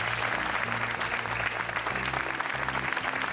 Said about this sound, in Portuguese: Um aplauso já para o Super Joker Dénis Conceição.